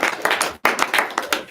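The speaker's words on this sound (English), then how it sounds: "Give Brett another round of" A small group giving a round of applause at a baseball bullpen session, a brief patter of clapping with individual claps audible and a short gap midway.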